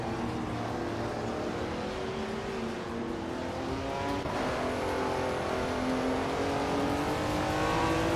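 Race cars in a racing video game roar continuously close by, engine tones rising and shifting as several vehicles accelerate through gears, with a faint whine sweeping upward midway.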